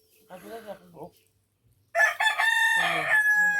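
A rooster crows loudly nearby with a long, strained call, following a few soft clucks and murmurs a moment earlier.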